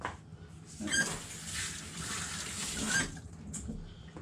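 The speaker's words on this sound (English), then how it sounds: "I better wash my hands" Hands washed under a running kitchen tap, a close, steady splashing gush of water lasting a couple of seconds that then stops, with small clinks at the start and end.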